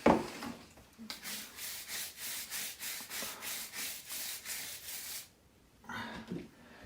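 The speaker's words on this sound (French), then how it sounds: "Et je m'en vais nettoyer la carte mère. Avec une brosse, un grand poil bien sûr" A soapy long-bristled brush scrubs a wet Schneider CPC664 motherboard in steady back-and-forth strokes, about a dozen rhythmic rasping passes close to the microphone, then a pause and a final short scrub.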